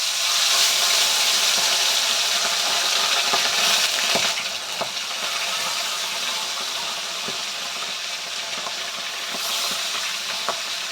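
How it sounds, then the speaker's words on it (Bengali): Tilapia fish fry in hot mustard oil with a loud, steady sizzling hiss that eases slightly partway through, broken by occasional clicks and knocks from cookware. "মাছগুলো আমি এপিট ওপিট লাল করে ভেজে নেব"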